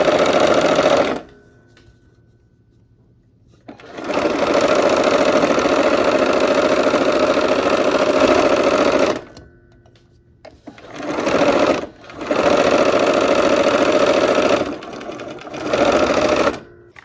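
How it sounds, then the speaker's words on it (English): A sewing machine stitches quilt block pieces in loud, close bursts of rapid whirring: a long run, then two shorter runs, separated by near-silent pauses. "we're gonna sew down here, and same here, okay? Right, let's go ahead and sew."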